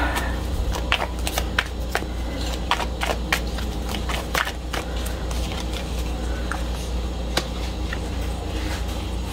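Tarot cards being shuffled and drawn during an ancestor reading, heard as a string of sharp, close card snaps and riffles with uneven gaps over a steady low background hum.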